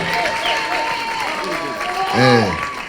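A meeting of people living with disabilities at Ngong Racecourse breaks into applause, a steady wash of clapping from a crowd with voices mixed through it.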